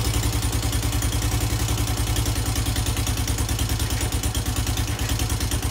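A 2005 Honda Fourman 500 ATV engine running low on fuel, chugging loudly and steadily with a fast, even pulsing beat close to the mic.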